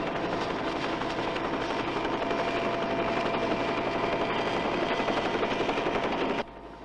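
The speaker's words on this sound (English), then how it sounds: "I'll have to move the copter clear." A hovering helicopter gives off a steady, loud rotor drone with a rapid beating texture, holding level before dropping abruptly to a quieter hum near the end.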